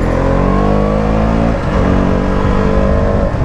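KTM RC 200 motorcycle on a street, engine revving hard and accelerating, loud and close, with a brief dip in the revs midway before climbing again.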